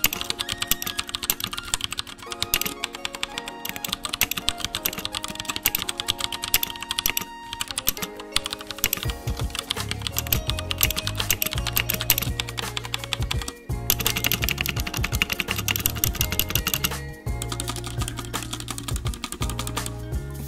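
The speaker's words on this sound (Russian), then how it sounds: "Давайте послушаем, как тапает эта клава," Rapid, continuous typing on a Royal Kludge RK61 60% mechanical keyboard with brown switches, close and crisp, with dense clacking keystrokes and a few brief pauses over about twenty seconds, no speech.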